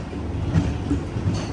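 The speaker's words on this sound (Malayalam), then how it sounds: "എറണാകുളം ടൗൺ റെയിൽവേ സ്റ്റേഷനിലേക്ക് ആ ട്രെയിൻ എത്തിക്കൊണ്ടിരിക്കുകയാണ്." A Garib Rath Express train pulls into Ernakulam Town railway station, a steady low rumble of wheels and carriages with a few rhythmic clacks, close and continuous, with no voices.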